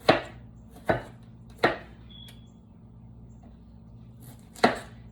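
A knife cuts the top off a cauliflower in four sharp, close chops, three evenly spaced and one after a pause, over a steady low hum.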